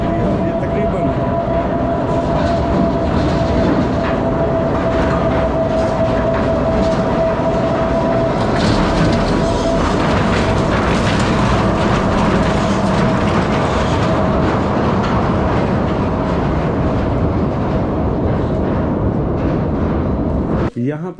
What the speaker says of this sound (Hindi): एक सफारी ट्रेन चलती है जो विजिटर्स को जो है वो अंदर की सैर करवाती है।